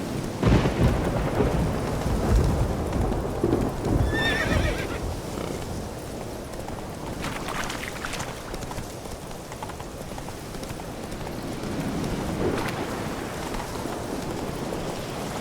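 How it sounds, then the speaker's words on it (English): A horse in The Witcher 3 whinnies and hooves clip-clop through a forest under a thunderstorm with rumbling and rain, the whinny standing out early and hoofbeats continuing under steady storm noise. "Whoa there, Roach."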